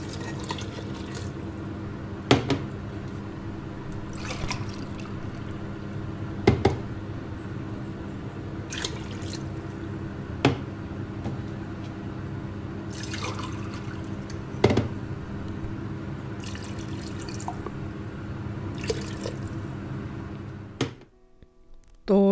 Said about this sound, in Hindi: मैंने गोश्त को भूनने के बाद अब इसमें पानी डाल दिया है